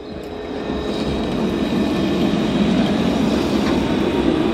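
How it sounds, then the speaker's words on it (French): A tram passes by on a Bordeaux street, a steady loud broadband rumble that holds throughout at close range with no voices. "Alors on va laisser passer le tram quand même"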